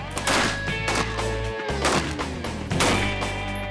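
Gunfire with tracer rounds strikes a tank: several loud, booming shots come in an irregular rapid series, layered over steady musical tones.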